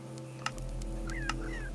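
Fowl in the Minecraft Animacraft mod give short clucking and gobbling calls over a steady low game drone, with a couple of sharp clicks and no talk.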